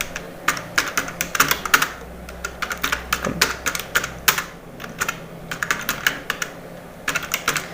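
Resume details being typed on a computer keyboard, quick close clusters of crisp key clicks in uneven bursts with brief pauses, no talking over them.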